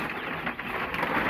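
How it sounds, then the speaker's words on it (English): A steady wash of rain falling, dense and even, close by with no voices. "we have a little bit of rain"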